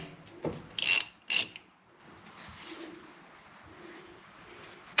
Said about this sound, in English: with a 14, we're going to release the brake line.